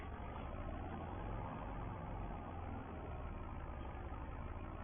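A vintage tractor engine idles at a steady, even low drone, heard fairly faint and muffled with no talking over it.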